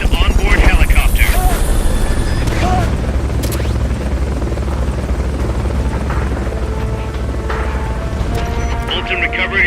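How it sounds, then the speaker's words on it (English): A Fulton recovery helicopter in the video game Metal Gear Solid: Peace Walker roars with loud, continuous rotor thumping and engine drone, with in-game voices and occasional mechanical clunks layered over it. "Fulton recovery subject confirmed onboard helicopter."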